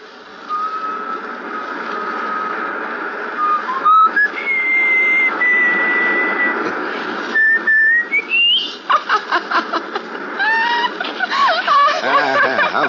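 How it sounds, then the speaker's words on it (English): A man whistles a tune in an old radio suspense drama: long steady notes that step up and down, then a quicker run of short chirpy notes near the end, loud and close. "Can you whistle?"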